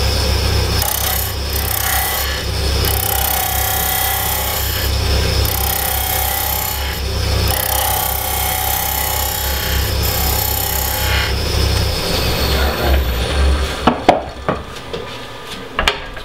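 Wood turning on a lathe at about 2500 rpm, a beading tool cutting beads into an off-center pendant: a steady, loud scraping whir with low motor drone, ending in a few sharp knocks as the cut stops.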